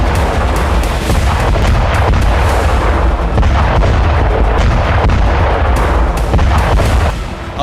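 Cluster bombs burst in war footage from Ukraine near Avdiivka as a dense, loud, continuous barrage, with many overlapping booms and pops rumbling without pause for several seconds.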